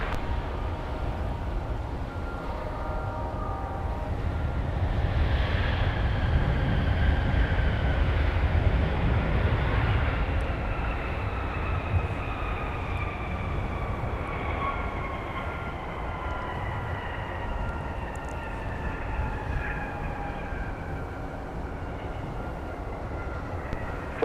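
Sun Country airliner in simplified titles livery taxiing at MSP airport, a steady engine roar with rising and falling whine tones, fairly near and continuous without talk.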